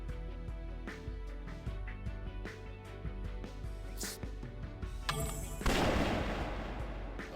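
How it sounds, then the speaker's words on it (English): A big, loud gunshot in the video game Trauma Team, a sharp blast that cuts through a tense musical score and leaves a long rumbling decay. "Oh damn, that big gunshot."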